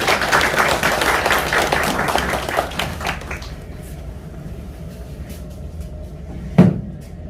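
Audience applause at a book talk with a photographer and a film critic, dense clapping from a crowd for about three seconds, then fading to quiet room tone with a single sharp knock near the end.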